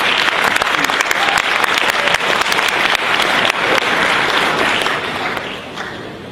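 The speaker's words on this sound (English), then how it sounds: "Please give him a long applause." Loud, sustained applause from a tournament ceremony audience at Korea All-Stars 2011, dense close clapping holding steady and then tapering off near the end.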